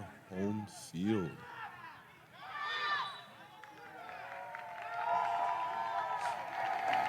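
Cheering crowd at a men's soccer match between the Mohawk Mountaineers and Conestoga Condors on a cold night, swelling and building toward the end, with several voices shouting over it and commentary-like talk mixed in.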